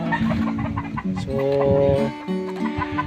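Red roosters and hens on a Philippine farm cluck and crow in a busy overlapping chorus, loud and close, with someone talking over the birds throughout.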